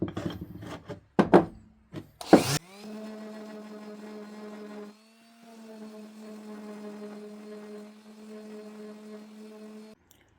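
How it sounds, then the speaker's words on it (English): Sanding scrap 2x4 wood cutouts shaped like ghosts: a few sharp knocks and scrapes first, then a steady whirring sanding drone with a shift partway through, continuing alone to the end. "I'm going to go and sand them down."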